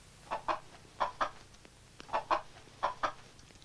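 Chickens cluck in short paired bursts, four clusters spaced across the span, fairly close and clear over a quiet background hum, at the opening of a film about women commandos.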